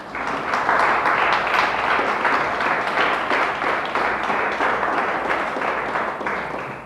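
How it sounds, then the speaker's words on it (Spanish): A church congregation applauds together, with sustained, dense clapping that stays loud and even throughout. "Dele fuerte el aplauso a Dios."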